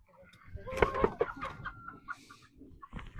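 Chickens cluck and squawk close by outdoors during a thunderstorm at a butchering session, a few sharp bursts early on, then quieter calls with rustling and faint background noise.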